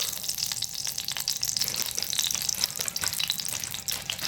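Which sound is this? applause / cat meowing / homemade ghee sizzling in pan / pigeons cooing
homemade ghee sizzling in pan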